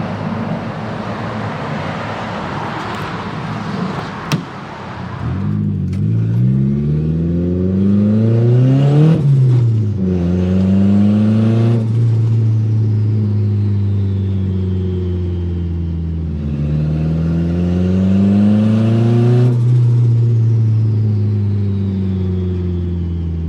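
A budget Mitsubishi Evo engine revs while driving, its tone sweeping up and down through the gears with repeated pulls, loud and close in the cabin, and no talking.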